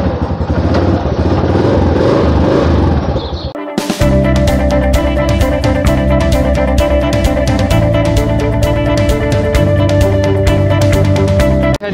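A motorbike engine runs close by with a steady, rhythmic throbbing putter after a brief drop at start-up, loud and continuous, in Sialkot.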